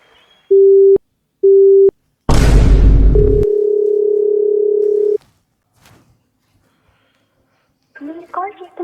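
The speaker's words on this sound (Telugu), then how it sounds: "మీరు కాల్ చేస్తున్న నెంబర్ ప్రస్తుతం స్విచ్ ఆఫ్ చేయబడింది" Phone call tones before a number-switched-off message: two short electronic beeps, a loud noisy burst, then a long steady tone, with a voice beginning faintly at the end.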